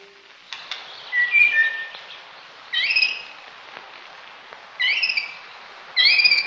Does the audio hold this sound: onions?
no